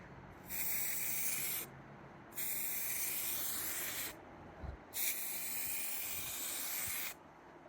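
A spray can lays light coats of jade mid coat paint on a vintage drive-in movie speaker in three long, steady hissing bursts separated by short pauses, close and even.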